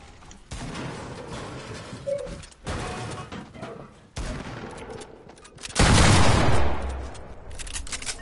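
Gunfire in Fortnite, several bursts of rapid shots and heavier impacts in a busy battle mix, loudest near the end, with faint voices underneath.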